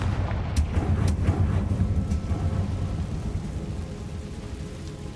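A Confringo spell blast in Hogwarts Legacy lands as a loud, rumbling explosive burst with a few sharp crackling hits early on, then a long low roar that slowly fades, with no voices.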